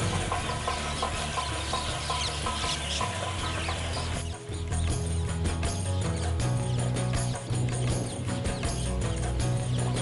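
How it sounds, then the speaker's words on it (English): A dense chorus of birds calls and chatters continuously at dusk at Rambagh Palace in Jaipur, many overlapping voices close by with no talking. "The dusk at Rambagh Palace becomes even more enchanting with the captivating sound of birds."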